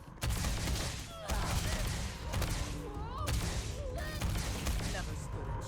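Rifle fire rings out in Starfield, several loud shots spaced roughly a second apart in a steady rhythm, with a person talking between and over the shots.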